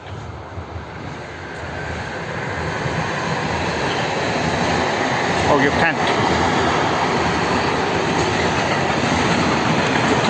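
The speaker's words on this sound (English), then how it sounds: "And there comes the train." A train rumbles past outdoors, its broad roar building and staying loud for about ten seconds, while a person briefly speaks over the noise.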